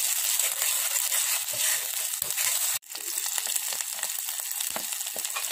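Onion chutney fries in oil in a pan, giving a steady close sizzle and crackle with a brief stir or clatter partway through, no talk.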